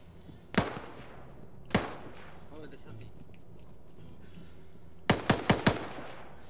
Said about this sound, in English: They're just under heavy fire from everywhere.